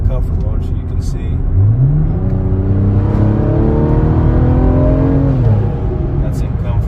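A BMW M340i fitted with a turbo upgrade accelerates in comfort mode, its engine note rising smoothly through several seconds before easing off, heard from inside the car, loud and close.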